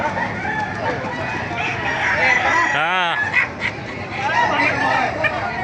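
A rooster crows once, loud and close, amid busy chatter and general crowd noise at a chicken market in Baliuag, Bulacan, Philippines.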